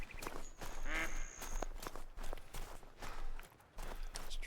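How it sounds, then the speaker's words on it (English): Ducks quack in theHunter: Call of the Wild, a short burst of nasal calls near the one-second mark over outdoor ambience and scattered footstep-like thumps, fairly close but brief. "Ducks."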